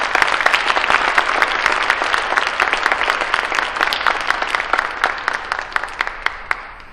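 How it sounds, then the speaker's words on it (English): An audience breaks into sustained applause, dense overlapping claps that hold steady and gradually taper off. "Please give a round of applause for Mr. Dave Zarin."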